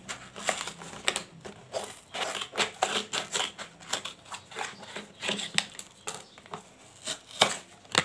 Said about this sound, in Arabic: كنشدو مقص